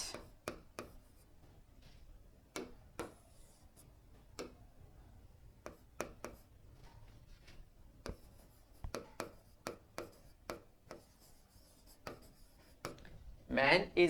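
A pen writing an answer on paper, soft scratchy strokes and taps in irregular bursts, close and quiet, with a brief louder rustle near the end.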